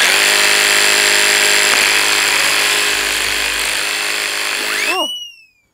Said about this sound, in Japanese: ほんじゃあ次は塩ビパイプを切ってみます。